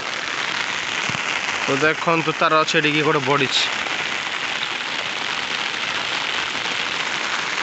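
Heavy rain pours down steadily, a dense hiss that fills the whole stretch, while a person talks briefly over it near the middle.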